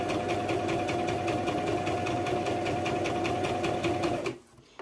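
A sewing machine runs steadily, stitching fabric for a bow-shaped headband, with a fast even whir and regular ticking pulses that continue loud and close before stopping abruptly near the end.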